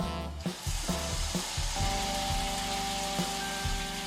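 Water hits a hot oiled pan of frying chicken gyoza, erupting into a loud, continuous sizzle with crackling bursts that stays dense and close throughout.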